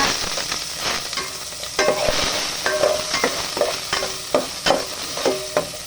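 Ginger sautéed in a little oil and soy sauce for a salmon belly dish, with a steady close sizzle broken by repeated scraping stir strokes at an uneven rhythm.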